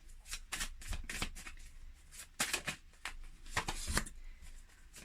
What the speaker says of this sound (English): So we're just going to go ahead and shuffle the cards.